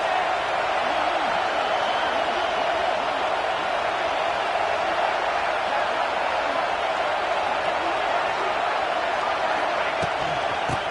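A packed college football stadium crowd at a South Carolina game swells into a loud, sustained roar, a dense continuous wash of cheering that holds steady for the whole stretch with no clear breaks.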